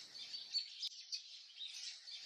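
A mockingbird flits between a lamppost and a holly, grumbling at robins feeding in a crabapple tree. It gives a quick run of harsh, chattering chirps and scolding notes, moderately close, with no voices.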